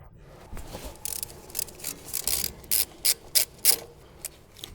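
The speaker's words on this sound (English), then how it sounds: "Remove the brake line bracket bolt using a 12mm socket with a ratchet and short extension." A ratchet on a 12mm socket with a short extension loosens a brake line bracket bolt on a 2017–2021 Honda Civic strut assembly, giving a run of close, crisp clicking bursts that quicken and grow louder, then trail off.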